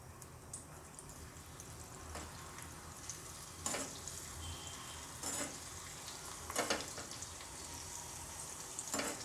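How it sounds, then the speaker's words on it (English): Raisins roasting in warm ghee in a pan, a steady soft sizzle running throughout with occasional brief stirring clatters, close and fairly quiet. "The raisins will get roasted very soon"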